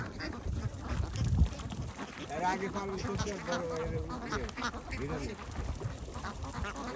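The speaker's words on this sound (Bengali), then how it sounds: "এটা হচ্ছে অ্যাডভোকেট রিপন গাজীর হাঁস" Domestic ducks kept on a Bangladeshi duck farm quack in repeated bursts amid steady farmyard noise, with a voice talking over them.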